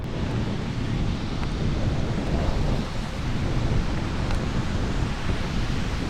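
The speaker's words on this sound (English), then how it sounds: "We're getting to something. A waterfall." Waterfall on a cart trail at Top of the Rock in Branson, heard as a steady, dense rushing roar that stays constant and fairly close throughout, with no voices over it.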